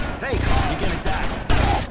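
Gunfire in GTA: Vice City Stories: several sharp shots come in separate bursts close by, with a voice speaking briefly between them.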